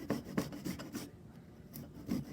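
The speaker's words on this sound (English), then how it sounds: "So then I just use this rasp." A sharp rasp grates a woody root by hand in short rhythmic scraping strokes, close and fairly quiet, with a brief pause midway before the strokes resume.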